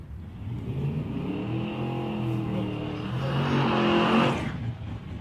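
A Chevrolet drag racing car accelerates down the strip, its engine note rising and swelling over a few seconds, heard from a distance before cutting off.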